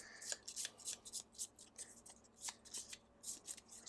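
A deck of Gloomhaven game cards being shuffled by hand, a quick run of soft riffling bursts close up and fairly quiet, with no talking.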